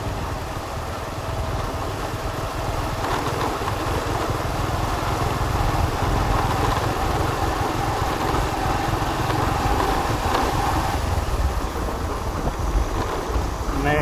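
Motorbike engine droning steadily while riding along a rural road toward a dike in Bình Đại, Bến Tre, Vietnam, with heavy wind rush over the microphone throughout.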